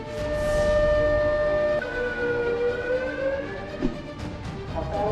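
An air raid warning siren sounds across Ulleung-gun after a North Korean missile launch, a loud, sustained mechanical wail whose tones slowly slide and waver, with no voices over it.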